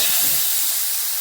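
Pomfret fish coated in masala shallow-frying in a spoonful of oil gives a steady, close, even hiss with no talk over it.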